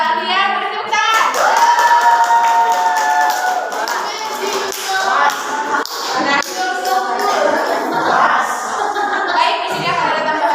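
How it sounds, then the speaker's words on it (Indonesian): A math class applauds a student, a patter of clapping hands that rises and falls, mixed with children's voices and chatter, with occasional taps and thumps throughout. "Kepada saudara Alia, beri tepuk tangan"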